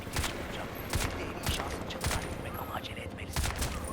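Gunfire in the video game Crysis 2: rapid bursts of shots over a busy background of game noise, repeating in short clusters across the clip at steady, fairly loud volume.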